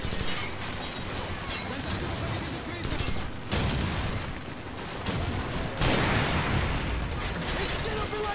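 Call of Duty 4: Modern Warfare gunfire rattles in dense bursts and rapid volleys amid mechanical clatter during a battle against a BMP armored vehicle, loud and continuous with short gaps.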